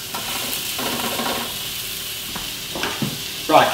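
Fillet steaks laid into a hot pan give a steady, close sizzle of frying meat, joined near the end by a short burst of scraping or shifting.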